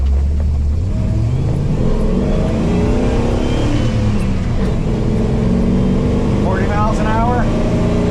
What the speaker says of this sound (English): The light, second gear start.